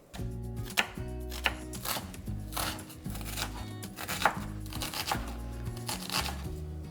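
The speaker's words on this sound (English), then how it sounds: "let's chop our onions" Onions chopped with a knife on a board: a run of close, rapid, irregular thuds and crisp cuts, with a few louder knocks along the way.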